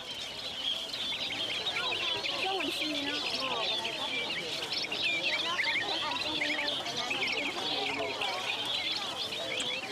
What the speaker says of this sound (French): Ils s'y procurent aussi des milliers de petits oiseaux capturés pour l'occasion.